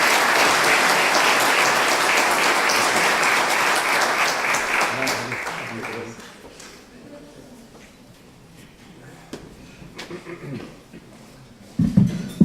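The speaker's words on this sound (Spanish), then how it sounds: "Brindémosle un fuerte aplauso a nuestro ponente" Loud, dense applause from a seminar audience welcoming a speaker at a forum on earthquake resilience, sustained for about six seconds before fading into scattered claps, shuffling and murmurs, then a brief bump of handling noise.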